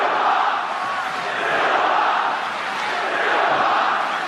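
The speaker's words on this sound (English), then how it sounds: "I believe I'm hearing Silva chants here in Melbourne" A large arena crowd in Melbourne chants for Anderson Silva during a UFC fight against Israel Adesanya, a loud, sustained roar of many voices swelling and dipping in rhythm.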